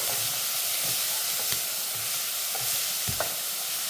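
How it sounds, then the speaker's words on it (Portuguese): Onion fries in a very hot pan with a steady, close hiss and sizzle, broken by regular scraping taps as a utensil stirs it, with no voices. "Vou fritar aqui a cebola."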